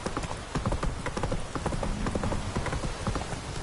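Rapid clip-clop of Geralt's horse Roach in The Witcher 3, a brisk galloping rhythm of hooves on ground, steady and fairly close, with no talking over it.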